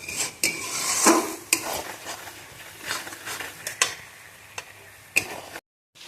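Chicken frying in spices for kacchi chicken kosha while a utensil stirs and scrapes the pan, with irregular metallic clinks and scrapes over a soft sizzle, close and moderately loud.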